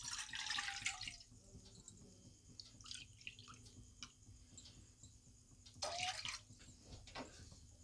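Two short bursts of water pouring into a pot for kozhukattai dough, the pitch rising as it fills, with scattered drips and clicks between them.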